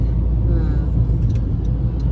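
Fast road traffic rushes past on a busy Quezon City street, a steady low rumble of cars and engines close by with no breaks, and no clear talk over it.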